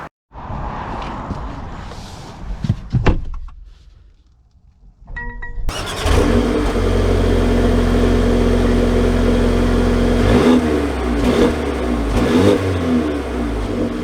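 A Mercedes GLB 250 starts with a short crank, settles into a steady idle and then pulls away, its engine note holding loud and close with some rises as it accelerates, after a few seconds of quiet before the start.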